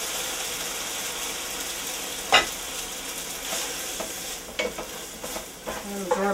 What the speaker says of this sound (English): Throw the pasta right into the pan.